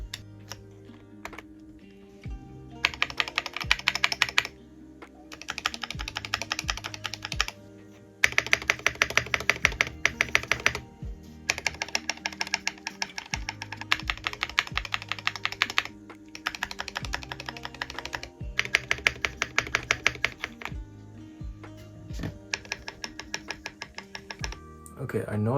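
Keys clatter steadily on a budget ND75 mechanical keyboard with a small screen, freshly lubed stabilizers and keycaps refitted, in bursts of rapid close clicks and thocks separated by brief pauses, over a soft background tone.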